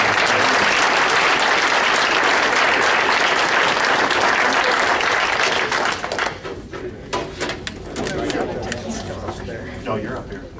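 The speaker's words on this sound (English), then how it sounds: "Let's give these speakers a round of applause again for coming all this way." An audience gives a round of applause for visiting speakers at a gathering, dense and sustained clapping for about six seconds that then thins into scattered claps with some talk and murmuring.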